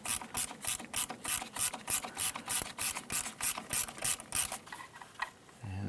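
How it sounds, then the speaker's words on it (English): A ratchet clicks rapidly and steadily for several seconds while spinning a nut off a shock mount during lower control arm work on a 1994-2004 Chevrolet S10, close and fairly loud with no talking. "Try and spin that nut off."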